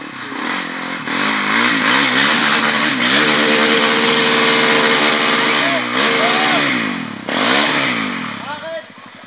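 A quad bike engine revs hard and drones loudly as it passes close by during a charity ride in Val d'Allier, the pitch rising and falling with throttle bursts, while people talk over it.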